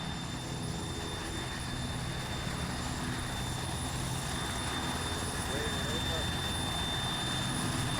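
A helicopter in Arma 3 holds a steady, droning rotor and engine roar throughout, a constant dense wash of noise with no breaks.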